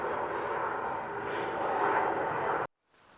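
An airplane flies overhead, a loud steady roar that swells slightly and then cuts off abruptly near the end, with quiet room tone after.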